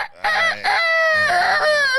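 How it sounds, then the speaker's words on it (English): A rooster crows in one loud, close, drawn-out cock-a-doodle-doo with a strained rising-and-falling call, heard alone without talk. "The rooster be like, oh, Maze on his way up."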